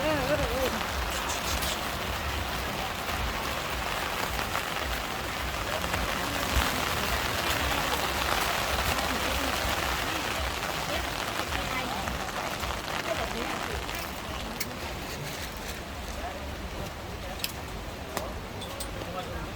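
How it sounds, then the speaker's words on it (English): Rain falls steadily over a Bangkok street market, a dense continuous hiss with scattered patters on covers and roofs, loud and enveloping, with faint voices mixed in. "So it's starting to rain."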